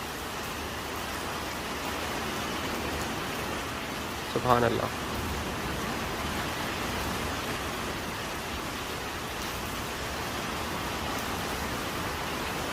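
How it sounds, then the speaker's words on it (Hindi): Winter rain falls steadily in Lahore, a constant dense hiss that holds through the whole stretch, with a short voice breaking in briefly near the middle. "देखें, बारिश की आवाज़ आ रही है।"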